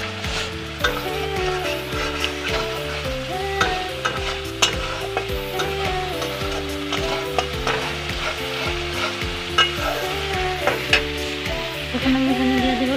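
Fish coated in spices sizzles and fries in a pan while being stirred, with steady crackling and repeated scraping strokes, close and continuous.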